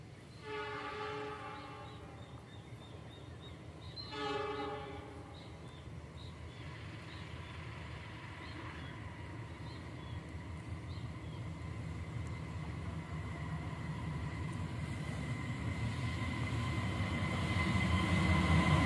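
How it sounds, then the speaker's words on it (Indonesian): The Malabar passenger train from Malang to Bandung sounds two horn blasts at Cibatu, then rumbles past steadily, its rolling noise growing louder toward the end. "inilah kereta api Malabar dari Malang menuju"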